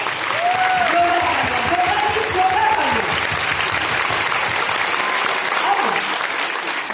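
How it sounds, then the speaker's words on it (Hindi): Loud, dense applause from an audience at a training seminar, sustained throughout, with a few voices and shouts rising over the clapping early on. "तो एक बार जोरदार सबके लिए तालियां हो जाए"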